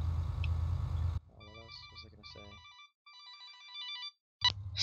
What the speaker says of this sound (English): sorry about that, got a phone call